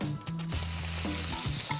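Ginger sizzles in a hot pan with oil left from frying crab, a loud, continuous crackling fry with stirring scrapes and no talking.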